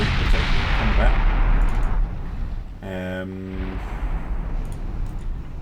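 Heavy battleship guns firing on enemy ships in the naval video game Ultimate Admiral Dreadnoughts, a rumbling roar of broadside fire that fades out, then a short tonal horn-like signal over a low background rumble.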